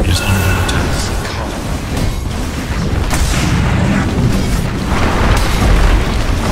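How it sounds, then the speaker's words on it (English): Heavy explosive booms and crashing impacts roll on continuously in a Dota 2 match as the Radiant middle tower comes under attack, a dense, loud wall of game combat noise with no voices. "Radiant's middle tower is under attack."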